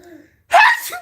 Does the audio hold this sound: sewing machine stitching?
no